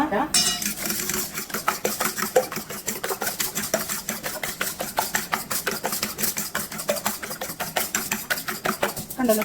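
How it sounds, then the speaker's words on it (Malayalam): Batter with salt and pepper is beaten briskly in a bowl for prawn fritters, a fast steady run of metallic clinks and taps from utensil against bowl, loud and close throughout. "ഉപ്പും കുരുമുളകും കൂടെ ചേർത്തിട്ട് നല്ലതുപോലെ ഇത് ബീറ്റ് ചെയ്തെടുക്കണം"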